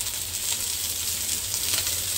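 Chicken wings for a Hong Kong-style Coca-Cola dish fry in a pan with a steady, close, hissing sizzle. The sizzle holds at an even level throughout, with no talk over it.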